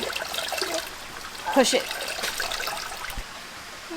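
Water trickles and sloshes in a basin while alpaca fiber is washed, a brief splash swelling midway, with people talking nearby over the quiet running water.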